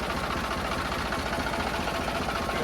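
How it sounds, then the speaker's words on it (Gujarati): A tractor engine idles steadily while reversing, a continuous dense mid-low rumble with a rough, knocking texture, loud and close, with no pauses and no talk. "જો આ ટ્રેક્ટર અત્યારે પાછું લઈ જાય"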